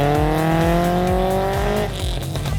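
A car engine revs hard near 9,000 RPM, a loud, buzzing, high-pitched drone that climbs steadily, then eases off near the end with a rougher, lower note.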